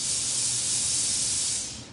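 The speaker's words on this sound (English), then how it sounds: "She's got that powerful steam." A Laurastar steam generator iron releases a steady, close hiss of steam for about two seconds before tapering off at the end.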